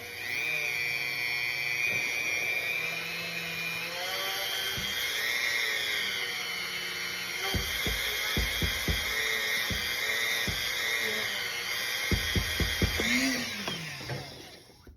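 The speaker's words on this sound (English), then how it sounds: "I use a 5/8 inch drill bit, but it's still kind of tight" A handheld cordless drill with a 5/8 inch bit bores into a Storm Absolute bowling ball, its close, steady whine shifting in pitch as it loads, with a run of sharp knocking thuds partway through and a tight final bite.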